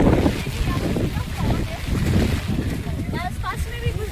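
Strong wind blowing at Tiger Point in Lonavala on a foggy, rainy day, a steady broadband rush that runs throughout the clip, with people talking over it and a few brief whistling sounds near the end.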